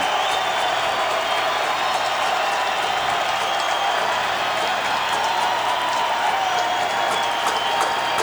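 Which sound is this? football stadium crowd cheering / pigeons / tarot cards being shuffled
football stadium crowd cheering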